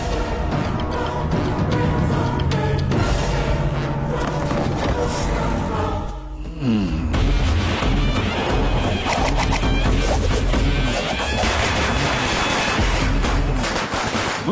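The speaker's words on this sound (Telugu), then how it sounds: "ముందు టపాసులు వేస్తున్నాడు," Firecrackers burst during a temple festival night scene in a Tamil-Telugu action film, loud rapid cracks and bangs layered over a dense music score, with a brief dip midway before the clatter resumes.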